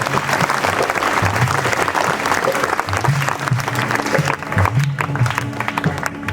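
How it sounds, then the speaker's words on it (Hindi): An audience claps loudly and steadily in welcome of a chief guest at an Arya Samaj religious gathering, dense applause filling the whole span with no pause. "एक बार जोरदार तालियां बजाएं।"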